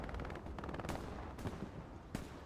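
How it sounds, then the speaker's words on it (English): Strafing-run gunfire in a WWII shooter on an Omaha Beach map: a dense, continuous rattle of distant gunfire runs throughout, with a few sharper bursts standing out above the steady crackle. "Strafe run comes in down to the south"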